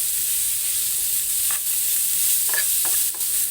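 Green chilies and curry leaves sizzle steadily in a hot pan while a utensil scrapes and stirs a few times.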